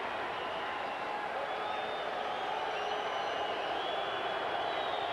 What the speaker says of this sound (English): The stadium crowd revs up.